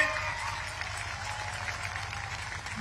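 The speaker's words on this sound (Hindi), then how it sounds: "ताली बजाओ सभी लोग प्रमोद के लिए" A crowd applauds at an election rally, a steady, dense wash of clapping that holds throughout without letting up.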